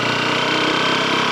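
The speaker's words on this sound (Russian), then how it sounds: "На первой передаче трогаемся. Уже высокие обороты, но едем медленно." Leonart Daytona 125 motorcycle engine pulling away in first gear, a steady, loud, high-revving drone with a buzzing tone that holds nearly constant throughout, no voices over it.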